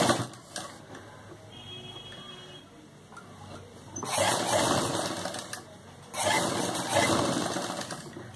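An electric sewing machine stitches a patiala salwar in two long, loud runs of rapid, even whirring, with quieter handling in between.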